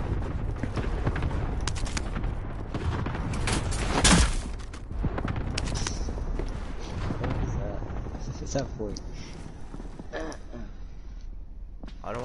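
Gunfire in a shooter video game, scattered shots and rapid bursts throughout with a louder volley around the middle, mixed under casual talking voices.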